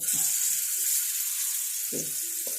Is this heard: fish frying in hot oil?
yes